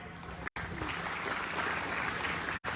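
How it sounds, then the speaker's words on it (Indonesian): A school audience at a Christmas gathering claps steadily, a dense, continuous round of applause filling the clip, with two brief cut-outs. "Tepuk tangan untuk sekolah ini."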